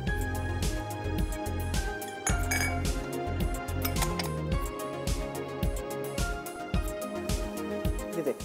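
Pasta and cherries being mixed in a dish for chicken lemon pasta, producing bright, repeated clinks of a utensil against the dish in a quick, uneven rhythm, close and clear with no talk.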